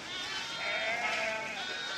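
A sheep bleats in a long, wavering call, fairly close and clear, with no talking.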